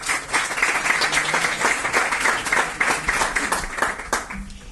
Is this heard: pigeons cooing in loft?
no